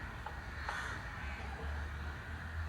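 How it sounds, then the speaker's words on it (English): Crows cawing outdoors during an evening public talk in Bombay, a few harsh calls standing out over steady background hum and crowd noise. "To listen to those crows,"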